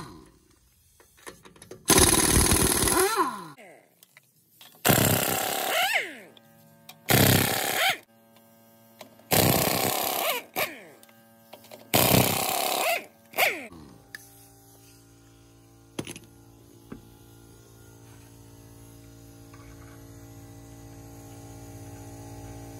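A power tool whirs in five loud, close bursts, each a couple of seconds long, as the wheel lug nuts come off a 2006 Ford F250. A low hum continues afterward.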